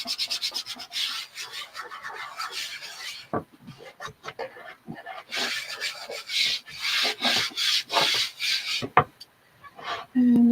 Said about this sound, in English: I'm just going to burnish it on my surface